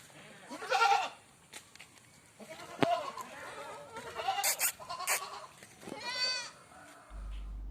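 A young male goat kid bleats several times, short high cries scattered across quiet surroundings, fairly close and moderately loud.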